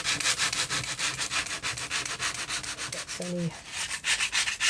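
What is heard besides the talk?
sanding napkin-decorated journal page with emery board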